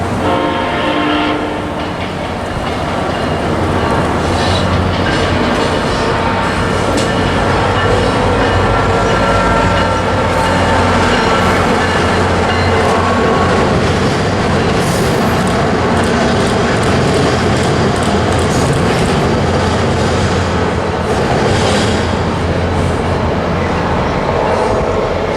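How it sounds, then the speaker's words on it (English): SunRail passenger train P327 passes northbound on the Florida corridor near Sanford, loud and close throughout, with steady rumble, wheel clatter and horn blasts, no talking. "We only got one train here, and that was SunRail train P327 northbound."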